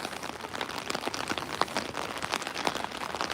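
Pouring rain falls in Edinburgh near the castle, a dense, steady hiss of drops pattering on hard surfaces close by, with no voices and a constant, even loudness throughout.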